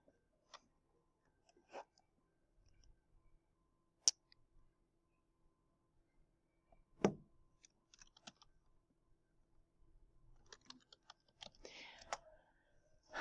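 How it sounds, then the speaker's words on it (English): Sparse, quiet computer keyboard typing while entering a last name in a document, scattered individual clicks in a near-silent room, a few sharper taps standing out. "And then I am going to type my last name."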